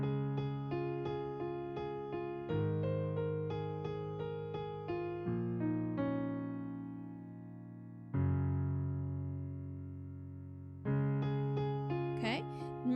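A right-hand piano chord pattern with repeated chord strikes in a steady rhythm, broken by a few longer held chords. The playing is clear and close, with no talking.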